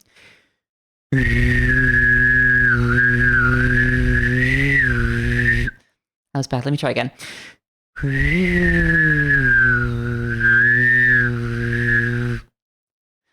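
A voice imitates a wavering UFO by whistling and humming at once, producing a warbling tone in two long stretches separated by a brief pause.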